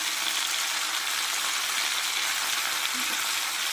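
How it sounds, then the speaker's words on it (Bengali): Spice paste with salt and turmeric frying in a pan gives a steady, dense sizzle that holds even and close throughout, with no voices over it. "এবার মশলাটাকে ভালো করে কষিয়ে নেব।"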